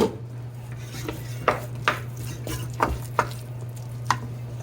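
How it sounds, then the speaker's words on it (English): A spoon stirs Kenyan mukimo in a pot with a few sharp clinks and scrapes at irregular intervals over a low, steady hum. "Give it a nice mix."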